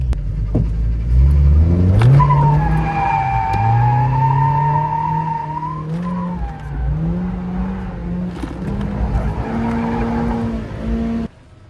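A budget beginner drift car slides with its tires squealing loudly and long while the engine revs and holds high, close and dominant, the squeal wavering and dropping briefly before rising again.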